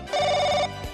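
Telephone ringing in a Konkani comedy film scene, a single steady electronic ring burst with bright, sustained harmonic tones, loud and close, ending abruptly.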